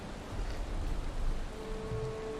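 Steady rain falling in the Valheim game world, a continuous broadband hiss of drops with no distinct spikes, moderately loud and constant throughout, with no one talking over it.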